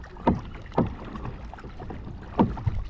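A canoe paddled on a river gives soft, periodic paddle strokes and splashes, three distinct dips spaced unevenly over a quiet watery background, close and alone with no talk.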